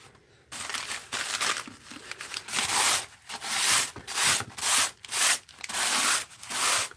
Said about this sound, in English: Excuse the scrapey sound.